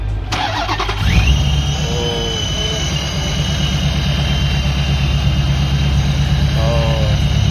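A supercharged Dodge Challenger SRT fitted with a P1 ProCharger cranks and fires into a loud, steady idle. A rising supercharger whistle sits over the rumbling engine, and brief chirps break in now and then.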